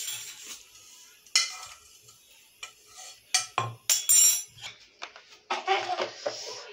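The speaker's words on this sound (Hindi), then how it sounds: "लें जी, ज़ीरा भी हमारा तकरीबन भुन गया है। अब इनको ना मैं दरदरा कूटूंगी" Roasted cumin seeds being coarsely crushed by hand, sounding as scattered dull knocks and gritty scrapes that come in uneven bursts, fairly close and moderately loud, with no talk.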